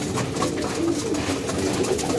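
Domestic pigeons coo repeatedly close by, soft throaty calls layered over one another in a continuous murmur.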